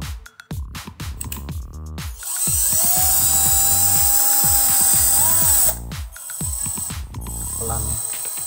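A LOMVUM 12V cordless lithium battery drill, first clicked and handled, then whirring steadily at speed setting 2 for about three seconds with a pitch dip as it stops, followed by more close clicks and handling knocks.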